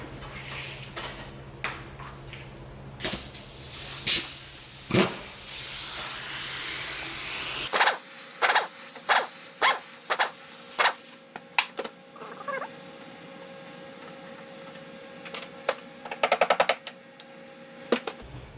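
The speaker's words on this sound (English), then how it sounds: "I'm going to use my impact with a Phillips adapter." An impact driver fitted with a Phillips adapter works a screw on an Evinrude 9.5 HP outboard, sounding as a loud, close rattling burst, then a series of short, sharp hammering bursts with pauses in between.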